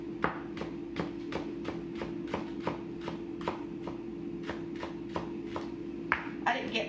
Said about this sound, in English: I'm gonna take a couple of green onion and chop them up